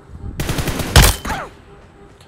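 Rapid bursts of gunfire from a mobile shooter game played on an iPhone XR, a quick string of close, loud shots followed by a single heavy blast and fading tail, with a brief sharp shot at the very end.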